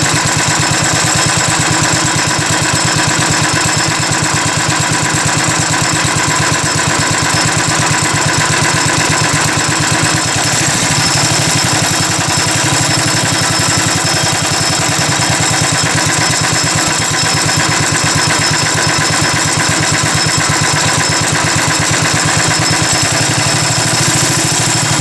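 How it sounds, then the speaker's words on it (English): A go-kart engine with a centrifugal clutch idles nearby, a loud, steady buzzing rumble that runs continuously with a rapid even pulse and no talking. "and that's our idle. Seems to idle all right."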